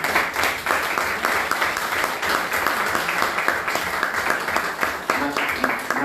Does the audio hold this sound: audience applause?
yes